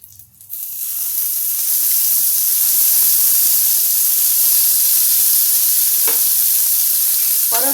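Chopped tomatoes hitting a hot pan of oil for a Marathwada-style tomato thecha, breaking into a loud, steady sizzle and hiss that swells within the first second and holds without pause.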